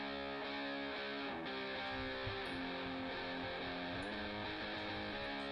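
Two distorted electric guitars played through different amps, one panned left and one right, chug out a dense, sustained rock riff with thick harmonic layers throughout, loud and steady with no voices.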